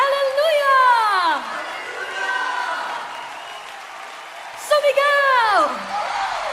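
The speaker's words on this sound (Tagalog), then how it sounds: "lahat tayo sumigaw ng Hallelujah!" A congregation at a Tagalog praise service shouts together in two loud, rising-then-falling group cries, with crowd chatter and scattered clapping between them.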